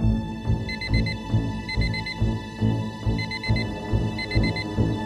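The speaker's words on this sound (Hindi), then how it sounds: "तुम ही ने कल रात वो अलार्म सेट किया था" An electronic alarm clock beeps in repeated quick bursts of four, cycling steadily over a low rhythmic background.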